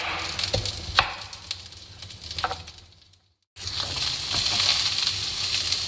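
Garlic and onion sizzling in a little oil in a pan for soup, a steady close hiss with occasional stirring clicks, briefly cut to silence before the frying resumes louder.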